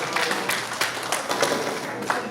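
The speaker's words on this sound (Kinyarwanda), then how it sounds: "Akumira amashyi nta shitani." Wedding guests at a Rwandan betrothal and dowry ceremony break into scattered hand clapping, a steady patter of claps with a few sharper strikes over a busy room murmur.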